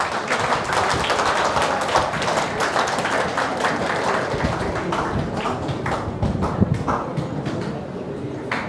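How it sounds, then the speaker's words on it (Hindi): A lecture-hall audience at a university claps together: dense, steady applause from many hands filling the room throughout, with faint voices underneath. "इसके लिए आप लोग अपने लिए ताली बजा लीजिए"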